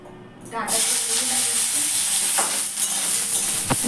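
Vegetable stems drop into hot oil in a kadai, and a loud, steady sizzle bursts in after a brief quiet start. It carries on close by, with a couple of sharp utensil clinks near the end.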